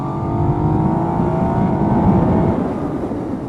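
A 2017 Yamaha MT-09 motorcycle with a three-cylinder engine pulls strongly, giving a steady, loud engine drone with a rising tone, heard close and continuous with no talking.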